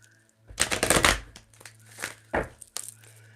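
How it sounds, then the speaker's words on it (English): A deck of tarot cards is shuffled by hand in a few quick, crisp riffling bursts, close and fairly loud over a low steady background hum. "I'm going to give these a little shuffle."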